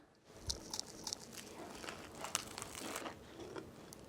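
Someone bites into and chews a crispy butter rice cake with a crunchy crust, giving a series of close, sharp crackles and crunches at irregular intervals over a quiet background.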